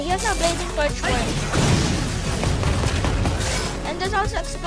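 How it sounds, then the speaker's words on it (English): Dense, rumbling explosions in Mega Man 11's Blast Man stage crash and boom continuously, with a voice speaking briefly at the start and end. "And there's also explosions as well once fire touches the grenade."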